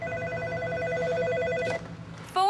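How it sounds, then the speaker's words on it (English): A telephone rings in a restaurant about to open, sounding a steady warbling tone that stops abruptly, followed by a brief click and a short burst of another sound near the end. "Phone rings."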